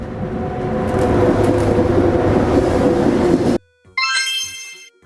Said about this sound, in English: A sleeper train has cozy beds for night travel.